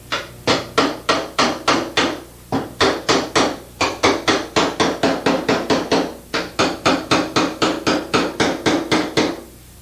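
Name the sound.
pick hammer hammering low sheet metal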